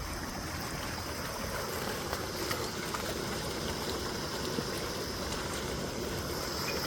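Continuous rushing water flowing through a channel on a farm, a steady broadband flow with no breaks, moderately loud and close, no voices.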